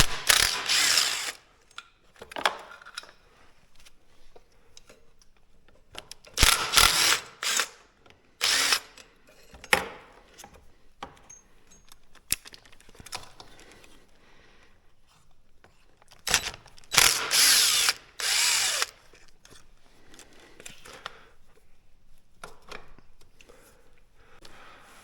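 A hand ratchet unbolting 8mm bolts on a quad that won't start clicks in several quick bursts of rapid pawl ticking, separated by quieter gaps with faint handling noises.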